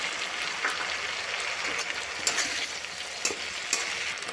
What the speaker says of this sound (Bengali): এখন কেটে রাখা টমেটো দেব।